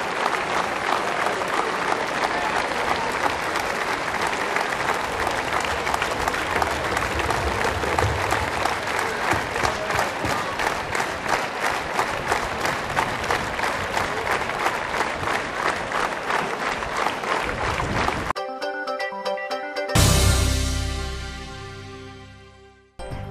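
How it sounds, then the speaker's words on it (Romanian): A large concert audience applauds an orchestra and its conductor at the end of a performance, sustained dense clapping at high volume for a long stretch before a sharp cut to other sound. "Orchestra și dirijorul Franz Lamprecht au fost îndelung aplaudați de publicul numeros."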